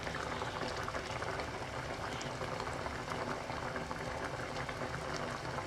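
Pineapple jam simmers in a pot, a dense, steady bubbling and popping heard close and fairly quiet, with no voices over it.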